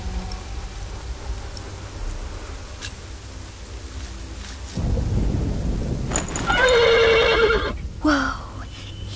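A horse gives a loud, close whinny that rises and then falls, over a sudden low rumble and steady noise like rain and thunder. It happens at night near a sleeping guard.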